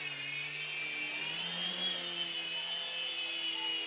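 A 9808 mini gyro R/C helicopter with plastic and aluminum frame and aluminum tail spins up for takeoff, giving a steady high-pitched rotor and motor whine with a low hum beneath, close and continuous without talk.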